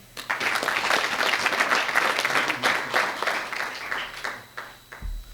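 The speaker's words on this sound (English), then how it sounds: "Otro aplauso, por favor." An audience at a press conference applauds officials after an executive order on community trust, a broad steady wash of clapping that tapers off near the end.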